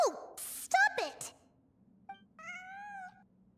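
A cat meowing in the video game Genshin Impact, two or three clear meows with a short drawn-out cry near the end, mixed with a character's voice.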